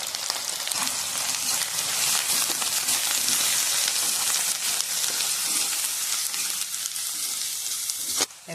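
Onions frying in a pan with ginger-garlic paste and turmeric added, a loud, steady, dense sizzle holding evenly throughout, close up, no voices.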